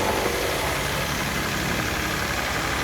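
An electric power sprayer runs at a steady, fairly loud hum with a constant broadband hiss and no change in pitch, heard close up without speech.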